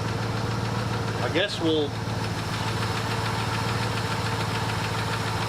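Old car engine idling, a 1967 Buick or 1976 Ford, a steady low mechanical hum with a faint even knock running continuously while someone speaks briefly over it.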